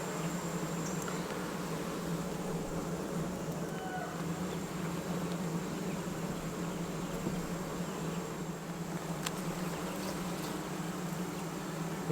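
Honeybees hum in a continuous, dense drone around an open beehive during an inspection, steady and close throughout with no talking.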